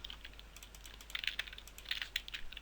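Quiet, irregular keystrokes from code being typed on a computer keyboard during a Unity game-programming session for a Space Invaders clone, with clustered bursts of clicks and no talking.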